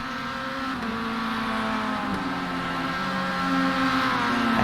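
Two race cars run side by side on track in a lap-after-lap battle, high-pitched engine whines layered and rising steadily in loudness as they close in, with no talk.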